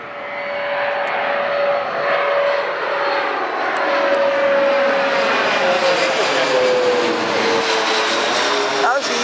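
A jet airliner, a US Airways plane, roars steadily as it comes in to land and touch down, a loud sustained engine rush with a falling whine, and voices talk faintly underneath.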